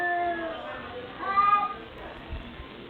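Two cats caterwaul and yowl during a short outdoor scuffle, the strained, wavering cries rising to a louder burst mid-way, with a person speaking alongside.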